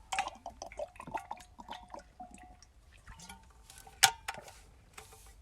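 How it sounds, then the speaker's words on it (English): A person gulps water from a drink during a break in gaming commentary: a run of close, wet glugs and swallows over several seconds, with no talking. "Sorry for the glug noises."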